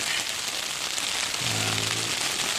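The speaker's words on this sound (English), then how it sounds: "it's pouring the rain" Heavy rain pours down during a mountain thunderstorm on a trail near Sierra City, a steady dense hiss throughout, with a brief low rumble joining partway through.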